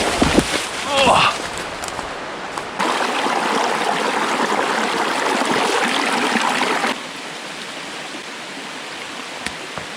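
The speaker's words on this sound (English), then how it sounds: "Look at this brook though." A brook flows over rocks beside a hiking trail, a steady close rushing of water that is loud through the middle and softer toward the end, with a voice heard early on.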